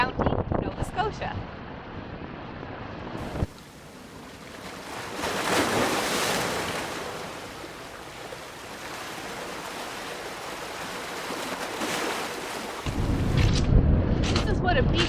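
Surf rolls in and out on Lawrencetown Beach in Halifax County, Nova Scotia, on a March day at high tide, with broad swells of wave noise and gusty wind buffeting the microphone. Talk is heard at the start and end.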